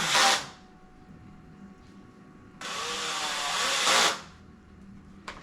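A power drill or driver sets screws into coffee table parts during assembly, with two loud whirring bursts, one short and near and a longer one of a few seconds, in a quiet room.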